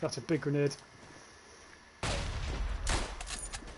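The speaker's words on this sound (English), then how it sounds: "That's a big grenade." A grenade bursts in the WW1 shooter Tannenberg, a sudden loud boom followed by rumbling gunfire and battle noise, after a brief voice at the start.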